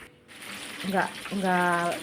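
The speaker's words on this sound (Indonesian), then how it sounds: "Nah, kita goreng dulu." Battered tofu fries in hot oil with a steady, close sizzle, while someone talks over it.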